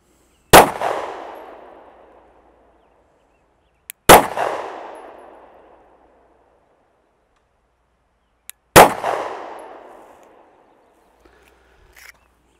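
Pistol firing Norma MHP 108-grain hollow-point defensive loads outdoors: three loud, sharp shots spaced about four seconds apart, each with a long fading echo, and nobody speaking.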